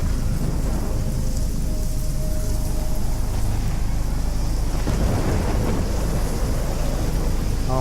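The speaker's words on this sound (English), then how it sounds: "I don't like thunderstorms, they scare me." Rain and thunder roll through a stormy night scene in the video game Life is Strange, a loud continuous downpour hiss with deep rumbling thunder building underneath, steady throughout with no talk.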